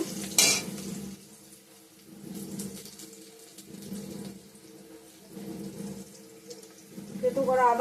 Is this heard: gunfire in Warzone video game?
no